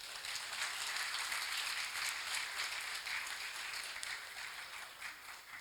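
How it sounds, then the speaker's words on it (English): An audience applauds as a speaker, Mr. Amir Ibrahim, takes the stage at a future-of-work session, with dense, even clapping sustained across the stretch and tapering slightly at the close, with no talking over it. "with a huge round of applause, please welcome on stage Mr. Amir Ibrahim"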